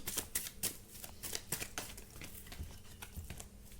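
Tarot cards being shuffled by hand, a quick papery riffling and slapping in irregular bursts, close and fairly quiet with no talk.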